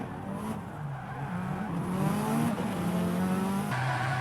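Drift cars on track in D1 Grand Prix competition, recorded on board, with tires squealing and skidding over a loud, revving engine that rises and falls continuously.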